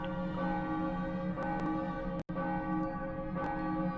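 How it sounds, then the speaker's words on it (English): A bell rings out in Xenoblade Chronicles Definitive Edition, its sustained tone carrying under steady game music with a few brighter chime accents and no talking. "Ringing that bell."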